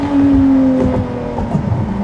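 Ferrari 599 GTO on a bumpy mountain road, its engine holding a steady droning tone that dips slightly as the car rolls on, loud and close from inside the cabin.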